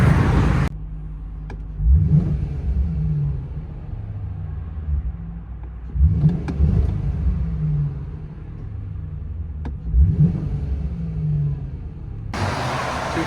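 Deep, rumbling V8 exhaust of a 2002 Ford Thunderbird 3.9L with Borla S-Type mufflers, heard from inside the car, swelling in three revving surges about four seconds apart over a low steady drone.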